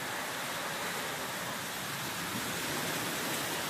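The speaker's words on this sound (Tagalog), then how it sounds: "Lakas ng ulan." Heavy rain pours down as a steady, even wash of noise that does not rise or fall. No voices are heard over it.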